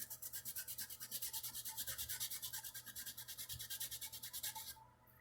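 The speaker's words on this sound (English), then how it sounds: "in how I'm sanding this, I'm really easing this edge over." Hand sanding the edge of a wooden guitar neck: quiet, rhythmic rasping strokes repeat at an even back-and-forth pace for about five seconds, then stop, with no talking.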